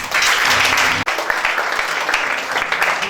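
A church congregation applauds loudly during a French-language sermon, dense sustained clapping with a brief break in the middle, then continuing.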